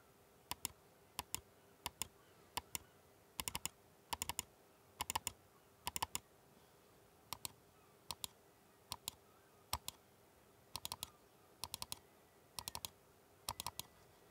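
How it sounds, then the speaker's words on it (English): Lamzu Atlantis gaming mouse main buttons clicked in sharp, crisp pairs and small bursts at irregular intervals, close and isolated against a quiet background. "The 2 main clicks sound like this."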